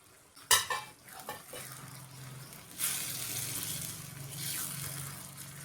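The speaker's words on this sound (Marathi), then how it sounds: "आता फक्त 2च मिनिटं आपल्याला भेंडी आणि मसाला छान एकत्र फ्राय परतून घ्यायचा आहे बघा." Okra simmers and sizzles in a spiced yogurt masala gravy in a pan, with a spoon stirring and scraping in a few sharp clinks followed by a soft continuous fry.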